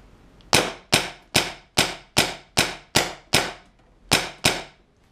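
An Empire BT Dfender paintball marker firing on high power, ten sharp, loud cracks at a brisk, mostly even pace with a short pause before the last two.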